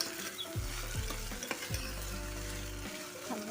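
Chopped tomato sautéing with softened onion in oil for a brinjal curry, sizzling steadily while a spoon stirs and scrapes the pan in repeated close, distinct strokes.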